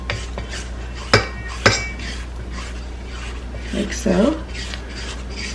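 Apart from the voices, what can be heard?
spatula scraping down the sides of a cake batter mixing bowl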